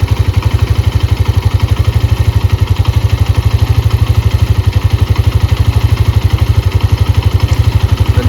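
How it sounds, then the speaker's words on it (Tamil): A motorcycle with 29,291 km on it and a suspected oil leak idles close by, its engine thumping in a loud, steady, rapid rhythm with mechanical clatter on top and no talk. "இன்ஜின் சவுண்டை மட்டும் கேளுங்க எப்படி இருக்குதுன்னு."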